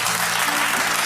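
Audience members at a live podcast taping clap in a short, loud burst, a dense patter of hands with a faint murmur underneath.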